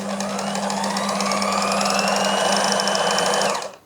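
A sewing machine stitching dori piping runs in one continuous, fast, buzzing drone for several seconds, up close and loud, then stops abruptly.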